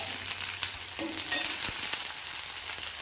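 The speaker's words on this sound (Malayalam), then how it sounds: "ഇതിലേക്ക് നമുക്ക് ഈ ചെറിയ ഉള്ളിയും വെളുത്തുള്ളിയും കൂടെ ഇട്ട് കൊടുത്ത് വഴട്ടാം" Small shallots and garlic sauté in sesame oil for a Saravana Bhavan–style chutney, giving a steady, close, bright sizzle with light stirring scrapes and no talking.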